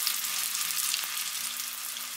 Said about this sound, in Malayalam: ഹൈ ഫ്ലെയിമിൽ തന്നെ ഇട്ടിട്ട് ഫ്രൈ ചെയ്യണം.